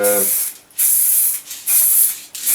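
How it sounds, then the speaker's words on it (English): A spray can painting a PVC bow: three sustained hissing bursts, each around half a second to a second long, separated by short pauses, close and loud, with a brief voice at the very start. "I prefer spray painting because it's the easiest"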